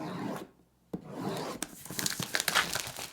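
Packaging of a Keychron Q10 Pro keyboard being opened: close rubbing, crinkling and tearing of card and wrapping, with a brief quiet pause before a sharp rip and then a steady run of scraping, rustling handling sounds.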